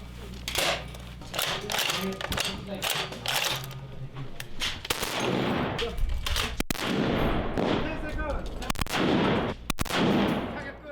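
Rapid gunfire during a military small-unit combat skills qualification test, with many sharp shots in quick irregular bursts over about ten seconds, loud and close with some echo.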